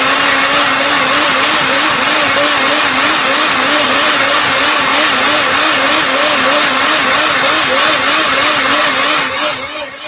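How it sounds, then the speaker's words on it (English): A blender on high speed whirring through a thick vegan dip seasoned with Old Bay, a loud, continuous motor drone with a regular wavering pulse that runs unbroken for about ten seconds before easing off at the end. "It is literally thickening up in the blender as I talk."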